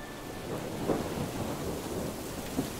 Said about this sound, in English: So it has just started raining on us again.